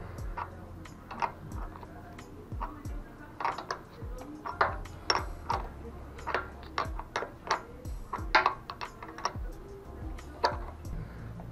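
A size 12 wrench turning a bolt on a motorcycle fuel tank, heard as a run of sharp, irregular metallic ticks and clicks, close up and fairly quiet.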